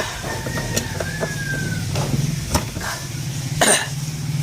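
An LG air conditioner outdoor unit with a CH67 error starts up, its fan motor and compressor setting off a steady low hum and a rising whine, with a few clicks and a sharp knock near the end.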